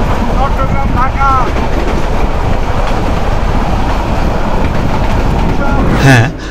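A Meghna Express intercity train running on the Chattogram–Chandpur line, a loud continuous rumble and rattle heard from inside the carriage, close and steady, with brief squeals near the end.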